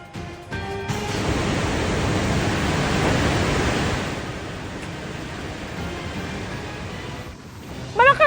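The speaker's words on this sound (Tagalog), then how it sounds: "Malakas ang ragasan ng tubig sa Upper Wawa Dam." Water surges over the overflowing Upper Wawa Dam in Rizal after nonstop rain, a loud, steady broadband roar that swells and then eases slightly, with a few faint sounds at the very start and end.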